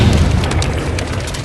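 A film explosion from a rat strapped with plastic explosives lands as a loud, deep boom and then rumbles on for a moment.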